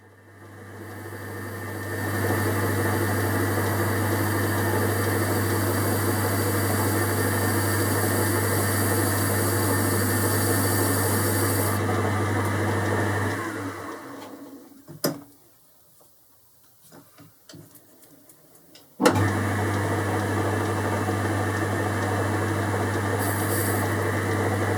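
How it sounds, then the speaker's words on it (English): A metal lathe faces off the end of a part held in a 4-jaw chuck, a steady motor hum with a fine cutting hiss that runs for about thirteen seconds, stops briefly with a few clicks, then starts again. "I'm just facing off the end to remove the cone that was on there."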